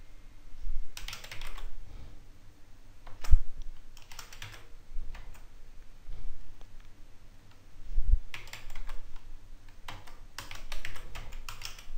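Keys clatter on a computer keyboard as values are entered into structural section-property software, coming in short bursts of quick taps separated by pauses, with a couple of sharper clicks.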